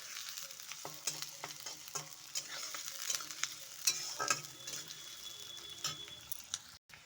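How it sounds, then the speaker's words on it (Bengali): Sliced onions fry in a pan for a poha recipe, a steady soft sizzle broken by frequent short scraping strokes of a spoon stirring them, close and clear with no talking. "পেঁয়াজটা হালকা করে লাল লাল করে ভাজে নিয়ে দিন"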